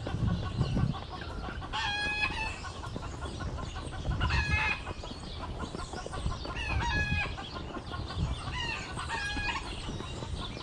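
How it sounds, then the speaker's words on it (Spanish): Several chickens cluck and squawk around a farmyard, with a few louder, drawn-out calls rising at regular intervals over a steady background of bird noise. "Y este de lado están las gallinas"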